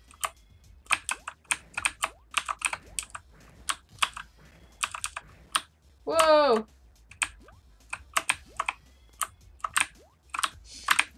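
Keys on a computer keyboard clatter in short, irregular bursts of clicks during PC game play. The clicks are close and crisp, and a brief voiced exclamation breaks in midway.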